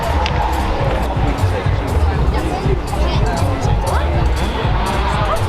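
Dense crowd babble at the Goodwood Festival of Speed around a McLaren Formula 1 car on display, a steady loud hubbub of many overlapping voices with no single speaker standing out.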